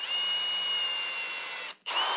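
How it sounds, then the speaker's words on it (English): A power drill bores a pilot hole in wood, a steady high whine held at close range that breaks off in a brief gap before spinning up again. "I'm going to drill one pilot hole in one end,"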